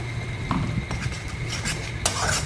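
Spice paste for a quick Bengali folui fish curry cooking in heated oil in a kadai, with metal utensil scrapes and clinks over a steady low sizzle, no talking.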